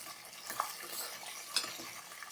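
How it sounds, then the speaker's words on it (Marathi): Chopped ivy gourd (tondli) sautéed with a pinch of asafoetida in a pan gives a soft, quiet sizzle, with a couple of light spoon scrapes and clicks. "आणि यामध्ये मी घालते तोंडली चिरून घेतलेली आहे। थोडंसं याला परतून घेऊया।"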